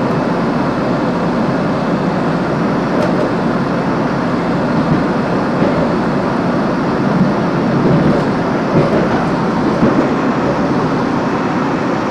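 A Glasgow commuter train runs along the rails near Partick, a loud, steady low rumble with rolling rail noise and a few faint clicks throughout, with no voices.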